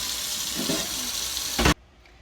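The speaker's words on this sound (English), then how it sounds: "sink is going to be filled with piping hot water." A tap runs hard into a sink, filling it with piping hot water, a steady rushing splash, then cuts off abruptly, leaving near silence.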